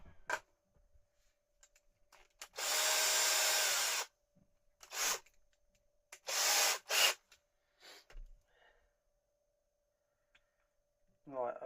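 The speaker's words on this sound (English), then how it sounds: "So let's get our drill." A small power drill with a fine bit bores pilot holes: one long whine burst, then several shorter bursts of varying length separated by quiet pauses and faint breathing, close by.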